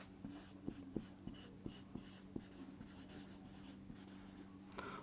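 Chalk or marker writing on a board during a lesson: a series of short, faint taps and strokes at an irregular rhythm, soft and close in an otherwise quiet room.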